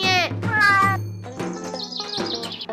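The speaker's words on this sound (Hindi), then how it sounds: "अरे ये तो चिड़िया के बच्चे की आवाज आ रही है" A cartoon baby bird chirps in a run of high, squeaky rising calls, close and fairly loud, with short gaps between them and other cartoon sounds following.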